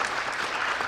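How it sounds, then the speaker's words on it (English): A brief burst of audience applause for the panelists at a blockchain conference panel in Seoul: dense, even clapping lasting about a second. "Could you give a little round of applause for the panelists"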